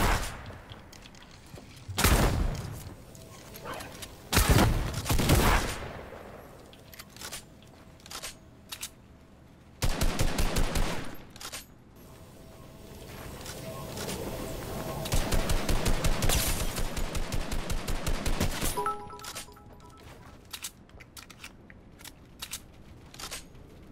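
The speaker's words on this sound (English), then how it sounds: "just so happened to decide to carry a drum gun" Drum gun fire in a Fortnite-style 1v1 video game fight, heard as loud rapid automatic bursts in several separate volleys, with a long sustained stream of shots near the middle and quieter gaps between.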